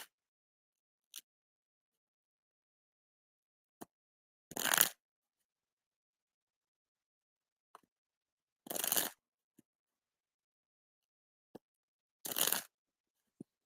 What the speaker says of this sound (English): you shuffle them first.